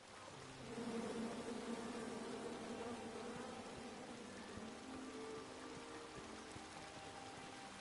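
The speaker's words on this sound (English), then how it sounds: "Come at me, bees!" Bees in the King's Quest video game drone in a steady, even buzz that continues for several seconds, with no one speaking.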